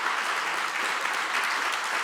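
A church congregation claps for the youth standing during a festival worship service, steady dense applause filling the whole moment without a break.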